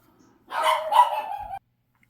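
Two or more pet dogs bark in a quick, excited burst of overlapping yips and woofs, fairly close and loud, indoors during a crochet session.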